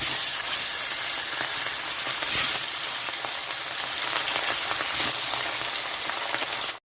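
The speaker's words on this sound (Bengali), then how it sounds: "এখন মাছগুলো ভাজার জন্য ছেড়ে দিচ্ছি" Steady, dense sizzling and crackling of fish frying in hot mustard oil, loud and close, continuing throughout without any talking.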